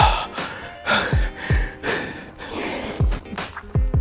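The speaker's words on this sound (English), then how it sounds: "Breathing heavily right now." Heavy, rapid breathing after a chest and legs workout, a series of sharp gasping inhales and forceful exhales in an irregular rhythm, close to the microphone and heard alone.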